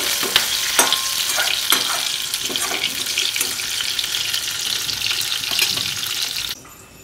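Pumpkin pieces frying in hot oil for a hilsa fish curry, a steady close sizzle broken by sharp clicks and scrapes of stirring, cutting off abruptly near the end.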